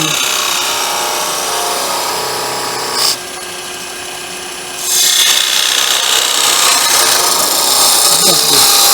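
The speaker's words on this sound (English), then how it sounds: "Just cut the nose with a skew." A skew chisel cuts into the spinning wood of a Christmas tree ornament on a lathe, making a steady, loud hissing rasp. The cut breaks off for a moment, then resumes brighter and harsher for several seconds.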